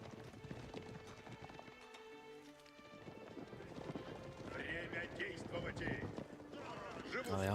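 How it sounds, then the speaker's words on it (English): Massed horse archers galloping in the real-time strategy game Age of Empires IV, a steady clattering of many hooves with occasional whinnies running throughout, heard under a commentator's continuous talking. "Mass horse archers."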